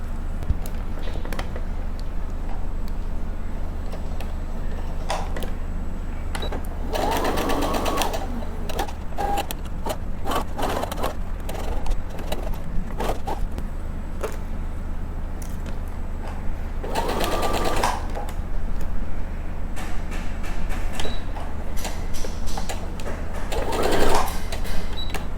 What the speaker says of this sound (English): So we just sew around here and sew straight down here